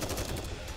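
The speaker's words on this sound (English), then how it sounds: "Gunfire!" Rapid automatic gunfire from the mobile shooter game Goddess of Victory: NIKKE, a dense, loud burst of overlapping shots filling the whole short moment without pause.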